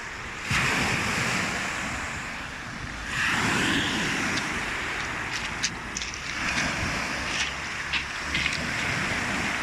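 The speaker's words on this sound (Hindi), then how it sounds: "लहरों की आवाज़।" Sea waves break on the shore of a Lebanese beach, loud washes of surf rising and falling in several surges with wind buffeting the microphone.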